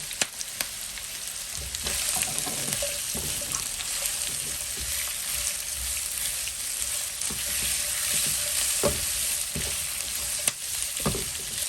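Chopped capsicum sizzles steadily in a hot pan for a Chicken Manchurian, with a continuous close frying hiss and occasional scrapes and taps of a stirring utensil.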